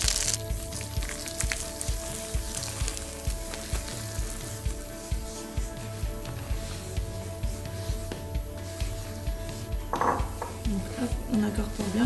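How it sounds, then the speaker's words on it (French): Semolina stirred into nutty browned butter in a pan for halwa, a steady soft sizzle with rhythmic scraping strokes of a utensil, close by, with a brief voice near the end. "On va rajouter la semoule."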